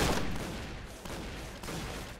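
Rapid gunfire from the shooter game Point Blank, a dense burst of shots fired close and loud, fading slightly before renewed volleys.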